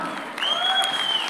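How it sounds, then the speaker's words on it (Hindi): An audience at a film press event breaks into steady applause that swells after a moment, bright and continuous across the room. "एक बार जोरदार तालियां हो जाए।"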